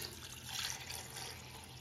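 Water pours steadily into a large pot of sautéed crab curry masala, a continuous soft splashing stream, close and moderately quiet, with no talking.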